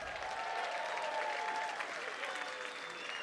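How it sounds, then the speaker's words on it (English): Audience applause at a boxing event after a four-round fight, a steady crowd clapping at moderate distance with scattered whistles, heard alone without speech. "how about a round of applause for both these fighters?"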